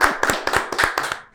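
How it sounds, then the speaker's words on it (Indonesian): Hands clap in a quick run of about six or seven crisp claps, close and evenly spaced, over roughly a second. "Tepuk tangan dong, boleh dong?"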